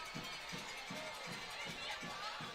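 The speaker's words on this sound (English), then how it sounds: "Some energy in this crowd, Jeffrey." A high school football crowd in a stadium stirs during a game, giving a steady, distant roar of many voices with faint cheering under a continuous background murmur.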